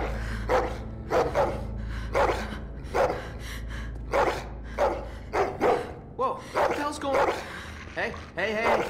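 A dog barks repeatedly in The Walking Dead: The Final Season video game, sharp evenly spaced barks under game dialogue and a low ambient drone.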